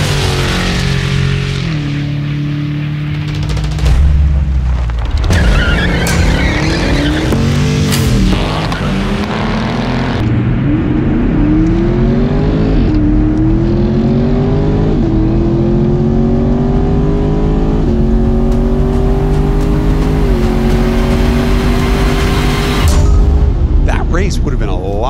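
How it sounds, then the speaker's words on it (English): V8 sports cars, including a 2024 Mustang Dark Horse, Camaro and Challenger, race closely along a mountain road, engines loud and close as they rev, shift and climb in pitch, under continuous narration. "spraying the mountains in the distance with the unmistakable sound of filthy V8s"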